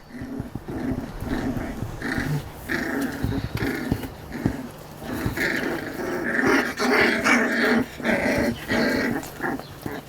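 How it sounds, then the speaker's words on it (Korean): Several Jindo dogs growling at one another at close range, in bursts of low rumbling snarls with occasional whimpers and yips, continuing unevenly throughout, with no voices. "지네끼리 으르렁거리네."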